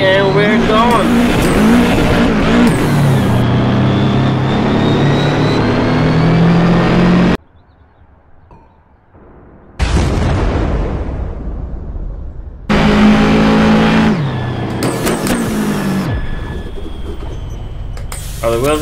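A 500,000 HP double decker bus in Assetto Corsa accelerates hard with a loud, rising engine roar that cuts out briefly, then returns and climbs again, with some tire noise.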